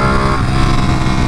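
Ducati Panigale sport motorcycle being ridden on a spring evening, its engine a steady, loud, continuous drone throughout with no talk.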